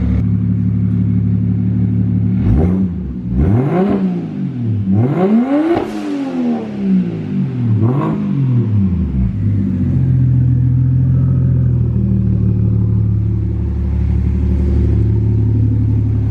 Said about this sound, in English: You can kind of hear the spool down a little bit when you rev it.